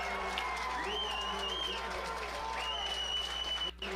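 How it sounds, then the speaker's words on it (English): Crowd noise and applause in the stands at a high school football game between SJ and Pearland, a steady wash of clapping and cheering under a thin whistle-like tone, with talk mixed in. "There was a big uproar from the crowd"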